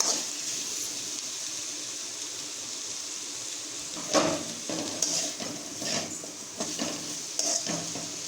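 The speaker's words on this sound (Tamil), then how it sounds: "நல்லா கிளறி விட்டுருக்குங்க" Masala of chili powder being stirred and fried for a village-style radish mutton curry, a steady sizzle with scraping strokes from the ladle that get louder and more frequent in the second half.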